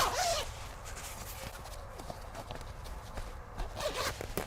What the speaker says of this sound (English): Now the sides can zip down, and just go to one side and grab that